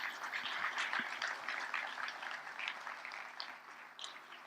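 Steady applause from an audience at a closing ceremony in Nice, moderately loud and continuous with a slight fade toward the end.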